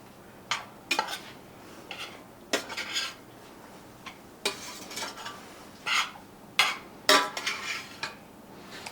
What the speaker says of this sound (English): Let me stir this up.